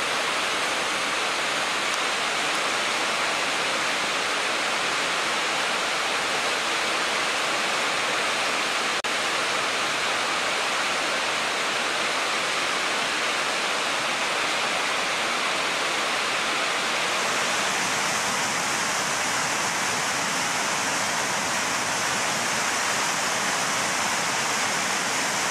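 Low, shallow water of the Váh river in Slovakia flowing steadily, a broad, continuous rushing hiss close by that stays even throughout with no voices.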